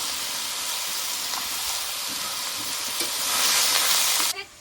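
Ridge gourd sizzles in a hot pan with turmeric, giving a dense, loud hiss and crackle that swells near the end and then cuts off abruptly, with no voices.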